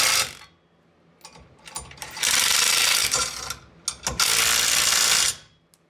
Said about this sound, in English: on the front here, you want to use the 11/16 to tighten it up